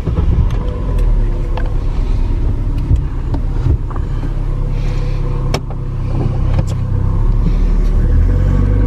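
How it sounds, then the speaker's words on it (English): A car's engine rumbles steadily up close as it is driven slowly into a garage, a continuous low drone with small knocks and no talking. "So I'm gonna move the car into the garage."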